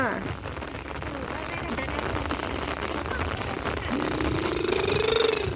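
Steady rain falls on durian trees in an orchard, a dense close patter that builds slightly toward the end, with a voice faintly present.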